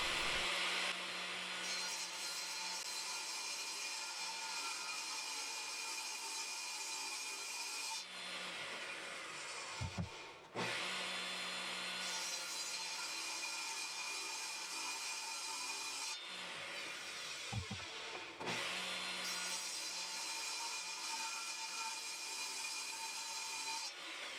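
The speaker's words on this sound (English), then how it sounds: "I'm starting by using my table saw to rip a Wenge board into 3 pieces" Table saw ripping a wenge board into three strips for a multi-laminate bass guitar neck blank, a loud steady whine with the blade under load, broken by two brief pauses between passes, with no talking.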